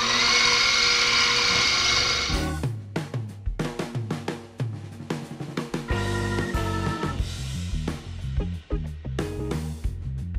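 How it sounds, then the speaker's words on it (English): A drill center-drilling a part for a kitchen sliding door whines steadily at first, then gives way to a series of choppy, grinding machine bursts with tonal hums, loud and close. "So we're just going to center drill now."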